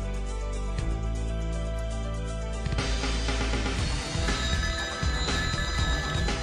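A fixed-line telephone bell rings repeatedly and loudly, soon joined by swelling background music that fills out the sound.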